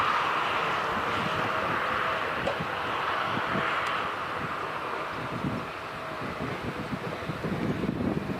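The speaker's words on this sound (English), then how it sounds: "So it comes in over parts of Meath, Rathout, Dunboyne, in over the ward there on the N2. And landing on the north runway." An airliner lands on the north runway at Dublin Airport, producing a steady, broad roar that rises and falls slightly, heard outdoors from a distance amid wind buffeting on the microphone.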